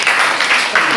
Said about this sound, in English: Everyone clap, both of them.